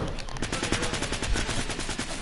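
A gun fires in Minecraft, a fast steady train of sharp shots in close succession, loud and sustained through the whole moment with no talking.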